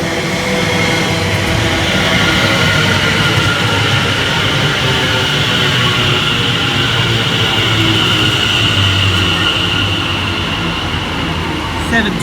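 Greater Anglia train passing through a station on the Great Eastern Main Line, a loud continuous rush of wheels and motor noise that holds steady for the whole stretch, rumbling and hissing at close range.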